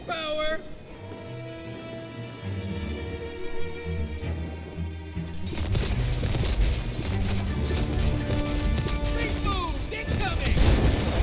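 Cannons fire in the co-op game It Takes Two, loud booming blasts and mechanical clatter building over a busy game soundtrack, with people talking in German.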